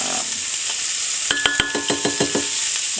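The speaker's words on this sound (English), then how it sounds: "while those onions are starting to cook off" Onions cooking in a pan outdoors alongside added corn give a steady close sizzle with a burst of clinks and stirring scrapes midway, no voices.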